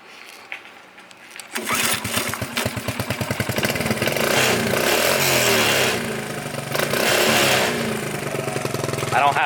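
A Honda ATC70 three-wheeler with a repaired clutch is started; after a quiet moment the small engine catches with a rapid rhythmic putter and keeps running loudly and steadily, revving up and settling close by.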